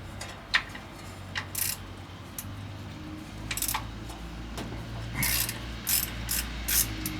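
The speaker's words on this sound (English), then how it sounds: "we need to loosen up our power steering pump here." A ratchet wrench clicks in short, uneven bursts while loosening a truck's power steering pump, the pawl ticking sharply and close against a steady low hum, with no one talking.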